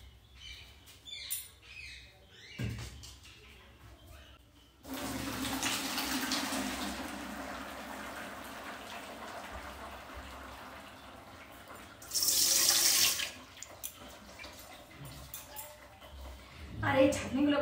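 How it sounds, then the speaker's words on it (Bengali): Starchy water from cooked rice pours through a strainer, a rushing splash that starts abruptly and runs steadily, with a brief louder gush later; speech and birdsong are heard faintly before and around it. "ভাতের ফেনাটা ঝেড়ে নিই"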